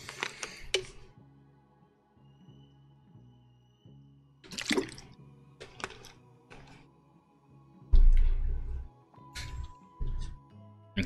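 Water being placed in Planet Zoo, heard as scattered soft splashing and bubbling bursts with quiet mechanical clicks between them, over a low steady hum, with one louder gush near the end.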